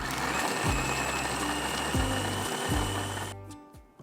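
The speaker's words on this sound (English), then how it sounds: "we will rough chop the onion, medium-sized onion, and we will add in our food processor" A food processor chops a medium onion with eight garlic cloves in loud, steady whirring bursts, its motor pulsing in repeated pitch-dropping surges before cutting off near the end.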